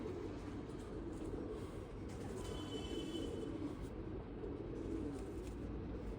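Jamuni pigeons coo softly in a loft, a faint, steady low murmur of calls with no voices over it.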